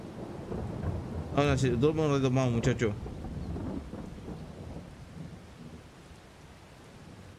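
Steady rain and rumbling thunder from the Farming Simulator video game, a broad continuous wash of rainfall with low thunder rolling through, while someone speaks over it briefly near the start.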